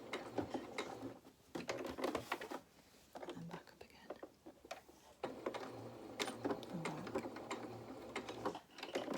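A sewing machine stitches a small triangle of contrast topstitching on a jeans pocket, running in short mechanical bursts with pauses as the work is pivoted on the needle, under soft talking.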